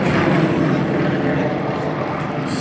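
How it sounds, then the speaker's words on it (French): Yakovlev Yak-50 and Yak-52 propeller aerobatic planes flying as a team at an airshow, a loud, steady droning engine roar held throughout with no break. "les voilà dans le ciel avec des avions russes,"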